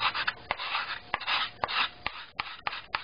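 A hand scraper shaves a wooden instrument plate during tuning, working down from the nodal area in close, rhythmic rasping strokes with brief pauses between them, no talk.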